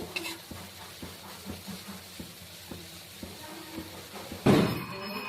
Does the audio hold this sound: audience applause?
no